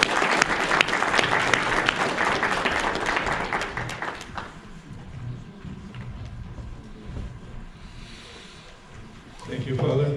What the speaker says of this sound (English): Please let us give him a warm round of applause.